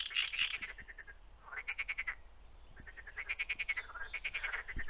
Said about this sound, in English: I thought that it will be silence here, but all those noises, some frogs, birds.